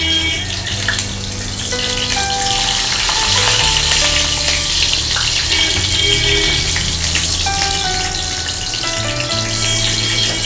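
Potatoes and capsicum fry lightly in a pan, giving a loud, steady sizzle that runs unbroken throughout, with faint stirring scrapes and background music tones beneath.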